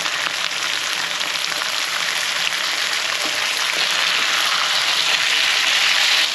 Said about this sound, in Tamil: இப்போது ஈரலை போட்டு வதக்கணும்